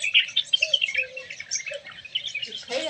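Sparrows chirp and tweet in quick, bright bursts while being fed pieces of rotla at a morning feeding spot, a busy close flurry of overlapping calls with a brief louder flutter at the end.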